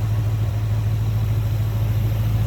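Low steady idle from a 2011 Ford Mustang Roush Stage 2 convertible with an automatic and just over 50,000 miles, a smooth continuous rumble with no revving and no one talking.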